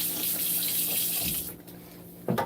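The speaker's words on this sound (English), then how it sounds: "Rinse off our stone." Water running from a tap to rinse off a stone, a steady close rush that cuts off midway, followed by a brief splash.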